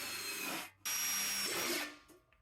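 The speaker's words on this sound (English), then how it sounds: "All right, let's drill, see what that looks like." A power drill with a 5/16 bit bores holes in metal for a mini smokeless fire pit, with two close, loud whining bursts separated by a brief pause and no talking.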